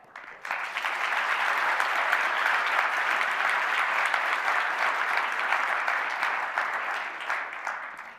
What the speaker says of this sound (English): Let's give a warm applause to our 5 first startup pitching tonight